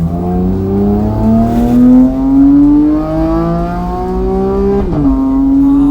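A Porsche 911 GT3 revs hard while driving, its high-pitched engine note climbing steadily through a gear, dropping briefly at a shift, then rising again, loud and close from inside the cabin, with no one speaking.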